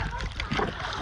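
Water splashing and spraying at a farmhouse outing, choppy bursts close by, with people talking over it.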